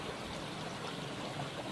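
A clear river flowing from the Bukidnon mountains through a village, a steady close rush and babble of water with no pauses.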